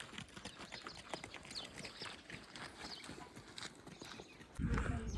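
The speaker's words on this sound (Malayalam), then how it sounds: "ഇവിടെ മൊത്തം കഴുതാണുള്ളത്." Donkeys walk along a village path in Lalung, Spiti, their hooves clip-clopping in a quick irregular patter at moderate distance, faint overall, with a louder rumbling thump near the end.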